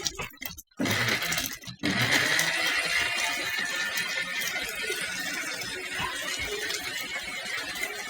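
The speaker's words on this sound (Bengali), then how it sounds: "এই যে এখন আমি এটা ব্লেন্ড করে নিচ্ছি" A blender whirs through strawberry milkshake with milk, stopping and restarting briefly at first before settling into a continuous, close, droning hum.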